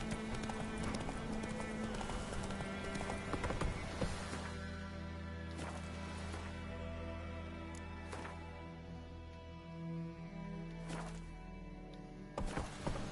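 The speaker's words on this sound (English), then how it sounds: "Come on, Roach." Hooves of a galloping horse in the video game The Witcher III, a fast repeated clip-clop rhythm under game music and ambience, with a few sharper hits toward the end.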